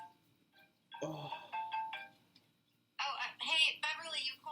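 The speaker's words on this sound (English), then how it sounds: "Beverly, you called my phone, not Leonard's." A phone ringing with an incoming call, a bright electronic ringtone chirping in short bursts at moderate volume, mixed with speech-like voices over a quiet room.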